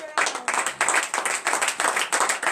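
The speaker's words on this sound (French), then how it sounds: "Vous savez pourquoi vous avez acclamé notre Dieu maintenant?" A congregation at a morning prayer service in Benin claps together in a steady, rhythmic beat to acclaim God, loud and close, with voices faintly mixed in.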